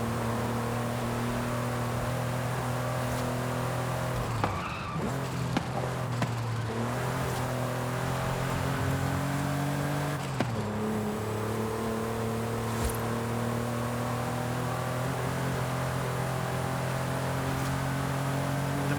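Car engine in the Forza Horizon 5 video game climbing a hill, a steady droning engine note that drops briefly twice as the gears shift, then rises again under sustained acceleration, with no talking.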